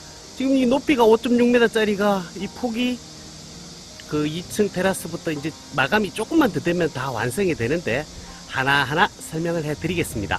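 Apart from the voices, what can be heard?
cicadas singing outside a house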